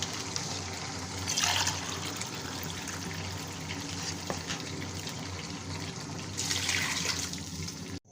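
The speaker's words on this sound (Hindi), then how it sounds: "ढाई गिलास यखनी के डाल के मैंने अब इसको दम पे रख दिया है, पानी पकने लग जाएगा।" Yakhni stock for Lahori pulao being poured into a pot, a steady liquid trickle and splash running throughout with two louder bursts of pouring near the start and end, close and fairly quiet.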